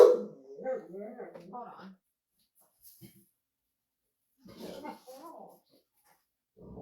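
A female dog barks and whimpers in short bursts near the microphone, with gaps of silence between, and a person speaks briefly indoors.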